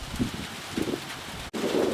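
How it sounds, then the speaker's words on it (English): Steady rain hiss with gusty wind rumble during a storm in Tazewell, Tennessee, faint and constant throughout, a brief dropout near the end. "as the rain starts to pour down, the wind is blowing"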